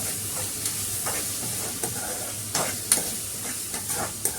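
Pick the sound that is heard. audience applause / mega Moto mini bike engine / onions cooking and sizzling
onions cooking and sizzling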